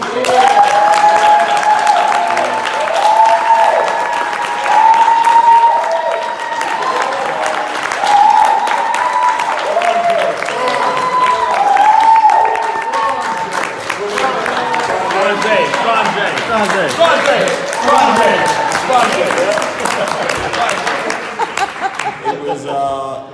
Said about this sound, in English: can we give a huge round of applause to Jeff and Angela?